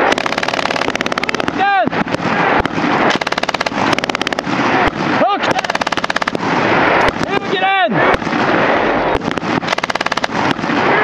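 An MG3 belt-fed machine gun fires long, loud bursts of rapid automatic shots, broken by a few brief pauses, with rounds ringing out over a sustained roar.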